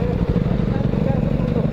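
A KTM RC200 motorcycle engine running at a steady throttle while riding on a mountain road, a loud close continuous drone with rhythmic pulsing and wind rush, with a voice speaking over it.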